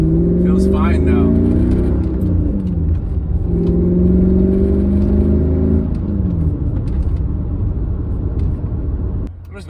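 Manual-swapped Mercedes C55 AMG in normal driving, its engine a loud steady drone that rises and falls with gear changes, shifting pitch through a few upshifts before easing off near the end.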